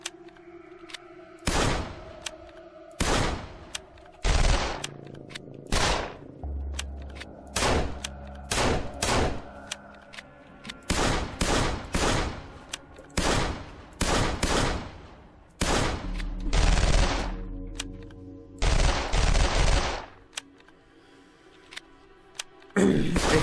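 Machine gun fire in the video game 13 Days In Hell, loud sprays of rapid shots in separate bursts with short pauses between, growing denser toward the end.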